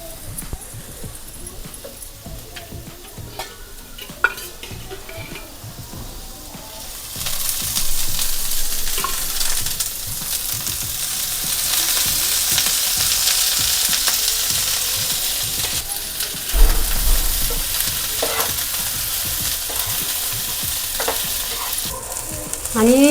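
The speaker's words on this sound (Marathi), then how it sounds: "असा काळा काळा जरा भाजून घेणार आहे चांगला." Onions for a rustic Marathi mutton curry fry in a pan until dark, a steady loud sizzle with stirring scrapes that grows louder partway through, and a faint dog whimper in the background.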